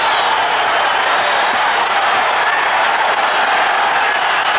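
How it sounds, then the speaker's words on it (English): Boxing crowd cheering during a Julio Cesar Chavez vs Juan Laporte fight, a steady loud roar of arena noise that holds without a break from start to finish. "Crowd coming to life as you see the action here"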